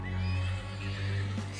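A horse in the Western video game Desperados: Wanted Dead or Alive gives a loud, close whinny that wavers and rises over about a second and a half, standing alone without talk.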